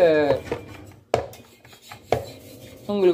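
A beetroot pressed through a vegetable cutter in a home kitchen, with metal clinks and sharp clatters of the cutter against dishes, two distinct knocks standing out between softer scraping sounds.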